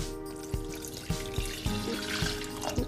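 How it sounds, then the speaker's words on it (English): Water is poured into a burnt stainless steel pot, with a faint, uneven splashing trickle and several small knocks or clinks scattered through a few seconds, and no talk. "Then add some water."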